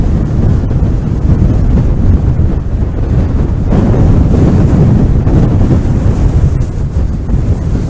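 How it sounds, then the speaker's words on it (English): Strong gusting wind buffets a microphone on the Southsea sea wall during Storm Frank, with winds around 50 mph. The roar is loud and continuous, with a heavy low rumble and surging gusts, and no voices. "You can probably hear the wind on the mic"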